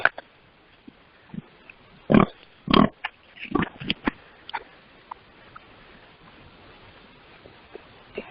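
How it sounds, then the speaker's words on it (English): Pastured pigs give several short grunts, loudest in a few close bursts early on, then scattered softer snuffles and small noises against a quiet background. "Did I just hear a pig?"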